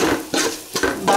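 A spoon stirs a puffed rice uggani mixture in a pan, with three quick scraping sweeps over a faint sizzle, close and fairly loud.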